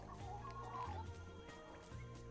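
Chickens cluck in the farming game Dinkum, a few short, soft clucks from a sick yellow chicken and others over quiet background music, without talk.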